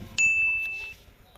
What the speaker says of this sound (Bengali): ফোন আসছে।